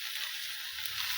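Ridge gourd frying in a little oil in a pan, giving a steady close hiss and sizzle that runs evenly and softly throughout, with no voices.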